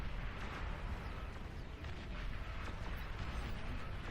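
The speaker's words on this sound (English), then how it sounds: "So many explosions" Dense, continuous rumbling blasts and crackling bursts overlap into a loud wall of explosive noise, with no talking.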